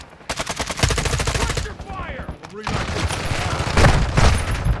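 Rapid bursts of automatic gunfire and single shots crack loudly in the Modern Warfare 2 video game, with a short pause midway before the firing resumes, and a player talks over it.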